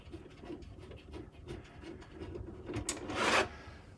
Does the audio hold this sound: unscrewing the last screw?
yes